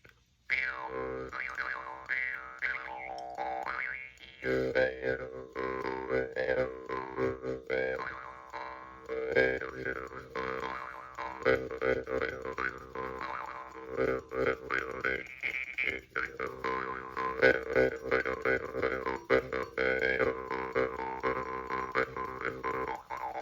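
A twangy, buzzing homemade jaw harp with new reeds played continuously with wobbling, vowel-like pitch changes, close and fairly loud, no voices.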